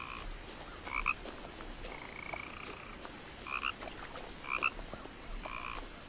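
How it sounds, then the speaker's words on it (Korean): In the video game What Remains of Edith Finch, frogs croak in short, repeated chirping bursts at a steady pace, soft and somewhat distant over a faint ambient outdoor hush. "개구리 소리가"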